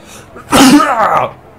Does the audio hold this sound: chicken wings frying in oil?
no